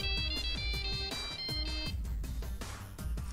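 An incoming call sets off a phone's melodic ringtone indoors during a model-painting session. The bright tone pattern repeats several times at moderate volume, with no talking over it.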